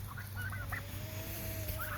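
Domestic turkeys on a small backyard farm with quail and chickens give a few short, fairly faint calls over a steady low background hum, with no talking.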